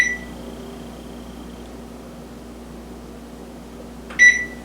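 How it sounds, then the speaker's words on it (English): A kitchen timer gives a short beep at the start and another a few seconds later, over a steady low appliance hum in a quiet kitchen. "Set my timer for 15 minutes."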